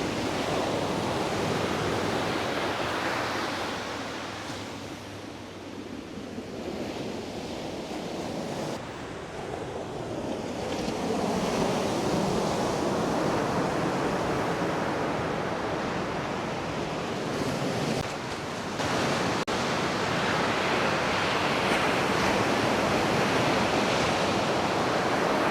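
Ocean waves break and wash along the Outer Banks shore, a loud, continuous roar of surf that swells and eases over time, with wind buffeting the microphone and no talking.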